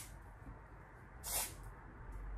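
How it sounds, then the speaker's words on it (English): Hair spray is sprayed in a bathroom as a single short, airy hiss lasting about a quarter second over quiet room noise, with no talking. "I'm actually gonna do a little bit of spray here"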